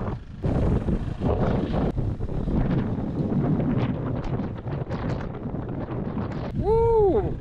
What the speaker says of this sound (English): Oh, wind's nuts today.